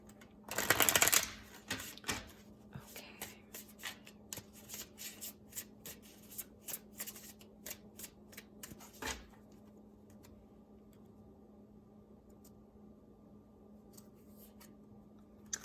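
Tarot cards shuffled and drawn: a loud burst of riffling near the start, then a string of sharp, separate card snaps and taps over several seconds, close by, trailing off into quiet.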